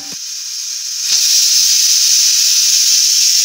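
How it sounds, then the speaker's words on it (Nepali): A pressure cooker whistles as it vents steam while soybean pickle cooks inside, a loud, steady, high hiss that swells after a short click and holds continuously to the end, with no talk. "हाम्रो सिटी लागिसकेको छ।"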